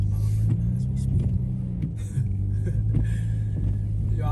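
V6 Dodge Charger driving in a snowstorm, a loud, steady low engine rumble with deep droning tones, shifting slightly as it drifts, close and continuous.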